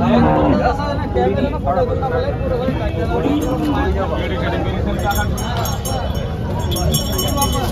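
Cattle low and moo amid a busy, noisy market with a steady background of chatter and crowd babble.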